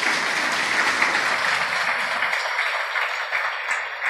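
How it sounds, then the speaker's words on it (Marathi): Sustained audience applause at a Marathi religious discourse given in memory of a late elder, a steady roar of many hands clapping that continues unbroken and close throughout, with no voices over it. "त्या दोन स्त्रियांसाठी जोरदार टाळ्या व्हायला पाहिजे"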